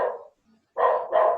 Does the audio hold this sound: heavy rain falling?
no